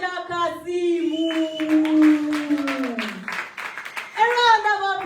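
Audience applause at a live business event: a scattered patter of clapping rises beneath an amplified announcer's voice and fades as the speaking continues.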